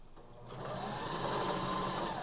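A sewing machine stitching down a zigzag seam on a cloth face mask starts after a brief quiet and runs as a steady, close, humming whir to the end.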